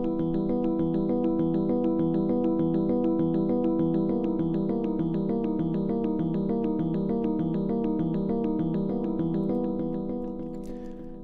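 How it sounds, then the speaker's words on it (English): A steady arpeggiated synth sequence from the Audio Modern Atom library pulses in rapid, even repeating notes over held chords, playing alone and fading slightly at the end. "which is basically an arpeggiated sequence like this"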